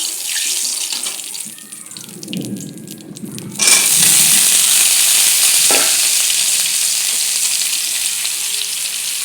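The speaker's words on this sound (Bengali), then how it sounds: "আলুগুলোকেও আমি একটু লাল করে ভাজি করে নেব।" Potatoes drop into hot oil in a wok with a muffled clatter, then burst into a loud, steady close sizzle that carries on to the end.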